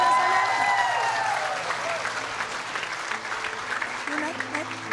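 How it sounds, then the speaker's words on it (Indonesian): Studio audience on a TV game show clapping loudly at first, then the applause thins and fades while a host keeps talking over it with music underneath. "Boleh minta tepuk tangan sekali lagi untuk Mbak Nur Hasana."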